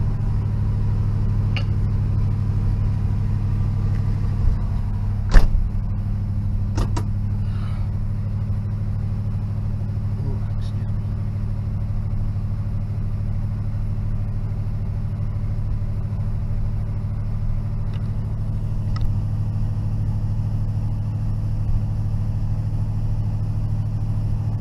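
A 1969 Pontiac Firebird engine with no choke idles steadily nearby, a loud low rumble with a couple of sharp clicks or knocks partway through.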